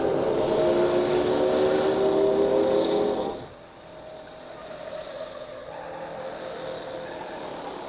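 Car chase in the film Bullitt: an engine roars loudly while cornering for a few seconds, then drops away to a quieter, distant rumble.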